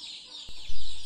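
A brief burst of high-pitched peeping calls from ten-day-old KUB-2 chicks, close and continuous, with a short knock partway through.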